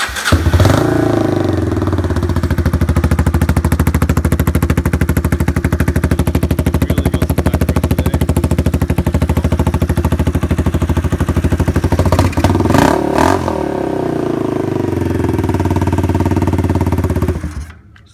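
A Yamaha Scorpio motorcycle engine starts without choke on a winter day and settles into a steady, loud, close idle with a brief blip of revs near the end before cutting off.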